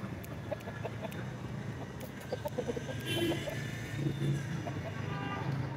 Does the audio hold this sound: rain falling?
no